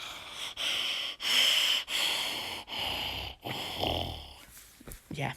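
Loud, close breathing rasping right into the microphone, rhythmic whooshing inhales and exhales with brief silent gaps between them.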